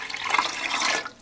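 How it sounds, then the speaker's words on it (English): Warm water pours steadily into a pressure canner used for canning sockeye salmon, a close, continuous splashing rush that tapers off near the end. "just pour in warm water"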